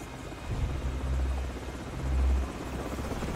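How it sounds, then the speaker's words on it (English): Enemy helicopters in the video game Call of Duty 4, a continuous low rotor thrum that swells and fades, with steady engine whine and battlefield noise underneath. "Enemy helicopters."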